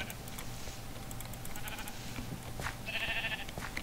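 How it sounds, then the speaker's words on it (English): Sheep bleating in a modded Minecraft world, several short game bleats over a steady droning background hum, with one louder nearby bleat near the end. "Why can't I kill those sheep down there?"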